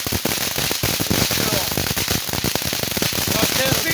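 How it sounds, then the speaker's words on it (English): A legal firework fountain crackles in a dense, continuous stream of sharp pops and snaps, loud and close, with voices talking beneath it. "And the crackle is what goes high."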